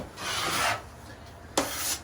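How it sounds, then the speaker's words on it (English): A trowel spreads joint compound across a wall patched after wallpaper removal, giving two raspy scraping strokes, the first longer and the second shorter and sharper, close and moderately loud. "I'm using a trowel"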